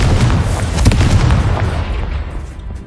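A Confringo fire spell explodes in Hogwarts Legacy with a loud, close, booming blast that crackles briefly and fades over a few seconds.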